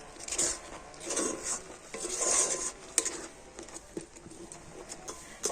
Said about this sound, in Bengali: লবণ আর হলুদ দিয়ে ডালটাকে খুব ভালো করে আবারও নাড়াচাড়া করে নিয়েছি